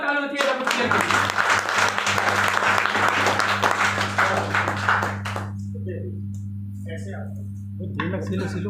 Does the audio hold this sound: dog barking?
no